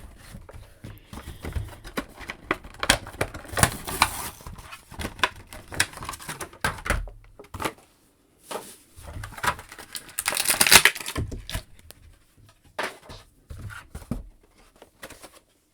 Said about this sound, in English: For the sake of this review, we're just going to open up the newer Dominik.